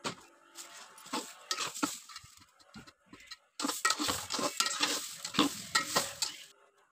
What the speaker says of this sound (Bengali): এরপরে চালগুলো দিয়ে দেব আর নাড়তে থাকবো অনেকক্ষণ ধরে, যতক্ষণ পর্যন্ত না এর রং হয়ে যায় বাদামি।